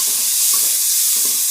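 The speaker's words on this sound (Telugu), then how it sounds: "టమాటోలు వేసుకుంటా. అలాగే పసుపు వేసుకోవాలా, ఇది కొంచెం ఫ్రై కావాలా బాగా." Chopped tomatoes with turmeric sizzle and fry in a hot pan for a Telugu pappu chinta pulusu, a close, steady crackling hiss with faint stirring and no speech.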